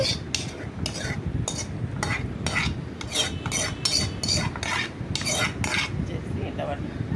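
Green chilies and tomato being coarsely mashed for an Andhra-style ridge gourd peel chutney, with rhythmic repeated crushing and scraping strokes against a bowl, close and fairly loud, about a dozen even beats.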